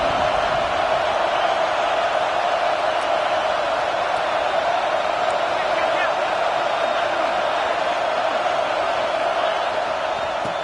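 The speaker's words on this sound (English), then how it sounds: "This crowd going to try to make life miserable for these guys" Football stadium crowd at a Wisconsin versus Washington game, a dense, continuous roar that holds steady and loud throughout with no distinct cheers or breaks.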